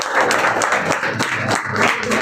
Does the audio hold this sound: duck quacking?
no